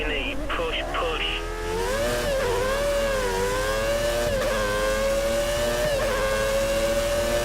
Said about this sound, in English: Revving it a bit there as we didn't get the fuel type change quick enough.